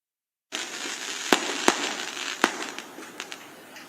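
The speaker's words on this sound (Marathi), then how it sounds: "फटाके बंद करा फटाके" Firecrackers bursting at an outdoor political rally, three sharp loud bangs over a steady crowd din, followed by a few fainter crackles.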